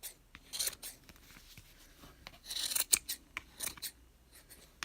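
Scissors snipping around the edges of a yarn pom-pom just made on a Bucilla pom-pom maker, with quiet, close, irregular cuts in short bursts and soft rustling of fibers between them.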